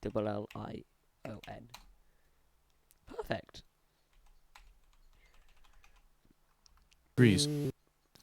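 Bursts of typing on a computer keyboard, clicky keystrokes in short runs between pauses, close and fairly quiet, with a person speaking briefly at the start and again near the end.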